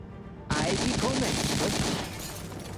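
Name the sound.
gunfire in the video game Silent Storm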